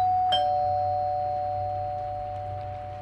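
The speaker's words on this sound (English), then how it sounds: "The doorbell rings." A doorbell chimes once, its clear electronic tone ringing on and slowly fading over a quiet room.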